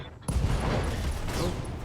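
Mech ammunition cooking off in a BattleTech video game, a sudden loud burst of crackling explosions that bursts in after a brief quiet start and roars on without a break.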